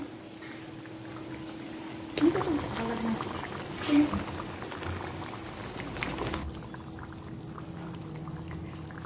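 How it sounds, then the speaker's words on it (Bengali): Katla fish rezala gravy simmers and bubbles in a pot, a low steady bubbling hiss with a couple of brief louder splashes as something is poured in. Quiet talk can be heard over it. "এই যে গ্রেভিটা ফুটে উঠছে"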